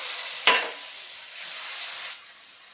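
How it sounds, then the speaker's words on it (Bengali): A spice paste of turmeric, chilli, coriander and cumin sizzles in hot oil in a kadai over bay leaf and cumin seed tempering, with one sharp stirring scrape early on and a steady close hiss throughout. "এটাকে ভালো করে মশলাটা কষে তারপর সবজিগুলো তুলে দেব"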